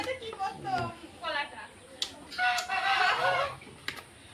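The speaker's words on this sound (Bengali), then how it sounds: "এই দেখুন কত সুন্দর মোরগ।" A desi rooster clucks and calls in short bursts close by, several separate vocal phrases spread through the clip, with people talking over the bird.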